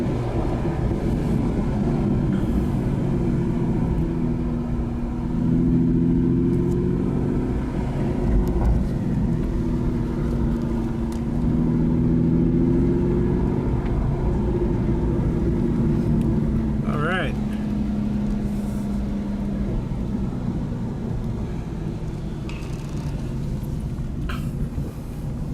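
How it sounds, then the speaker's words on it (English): Aston Martin Rapide engine while driving, a low steady drone with gentle rises in pitch as it pulls through gears, heard from inside the cabin with someone talking over it. "Very torquey engine."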